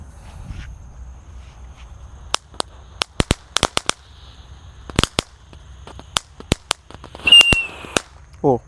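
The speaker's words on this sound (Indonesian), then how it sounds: "di sini ada mercon Tank" A Tank firecracker goes off in a string of sharp, loud cracks and pops, irregular single bangs spaced through the moment with a brief whistling fizz near the end, over a quiet outdoor background.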